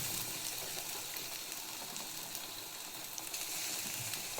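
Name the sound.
tomato frying and sizzling in a pan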